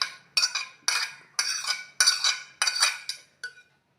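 Chopped jackfruit pieces dropped into a bowl in six distinct bursts, each a clinking clatter of spoon and dish that rises and fades, close and clear with no talking.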